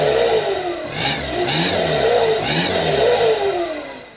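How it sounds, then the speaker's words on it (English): A 1997 Volkswagen Passat TDI diesel engine, prepped as a race car, revs up and down in several close, loud surges over a steady running drone, with no talk. "it kind of sounds like a school bus that's on the verge of running away at all times."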